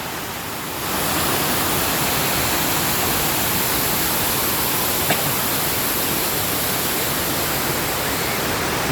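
River water rushing and flowing steadily nearby, a dense broad wash that rises after the first second and then holds at an even loudness throughout.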